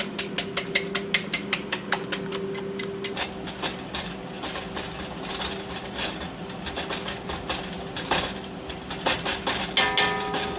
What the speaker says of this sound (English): whisk my eggs